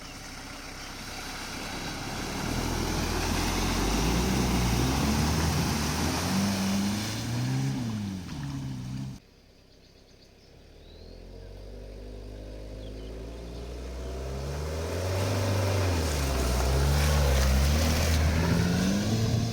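A Peugeot 205 1.9 diesel drives along dirt tracks with a steady droning engine that rises and falls through gear changes. The noise dips briefly midway, then builds back louder.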